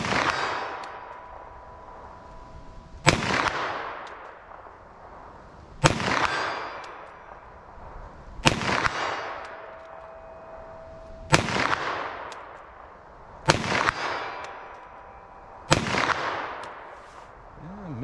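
Handgun shots fired at a steel target, about seven sharp reports spaced a few seconds apart, each with a ringing metallic decay, alone without talk.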